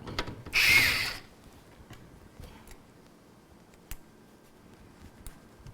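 A magnetized screwdriver drives screws into a PC case, starting with a short burst of ratcheting noise followed by scattered small metallic clicks and ticks, close and fairly quiet.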